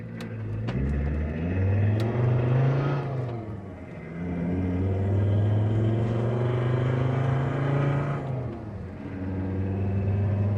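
A non-turbo 2.4 car fitted with a big-bore high-performance stainless exhaust accelerates hard on a road, the engine revving up in rising sweeps with a brief dip at each gear change, loud and close, without talk.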